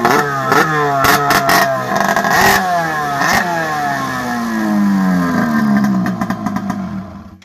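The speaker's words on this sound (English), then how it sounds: "This is quite the exhaust system you got here." An M8000 engine fitted with a beer-can exhaust revs hard in loud, raspy bursts, a series of sharp throttle blips followed by a long rising and falling rev. The sound is close and harsh, and no one speaks.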